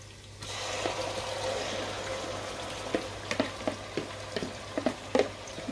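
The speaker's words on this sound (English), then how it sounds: "First, fry the tomatoes first before you add any water." Tomatoes frying in palm oil for a Nigerian buka stew, a constant sizzle with a series of distinct scraping knocks from stirring in the second half, heard close.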